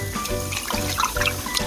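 Milk is poured into a cooking pot in a home kitchen, giving a steady, continuous liquid trickle and splash that stays close and fairly loud for the whole short stretch, with no talk over it.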